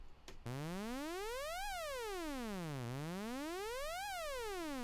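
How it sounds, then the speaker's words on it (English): A synthetic laser-like tone sweeps up and down in long smooth glides, loud and steady after a brief click at the start. "One of my favourite things in this project is this FX laser."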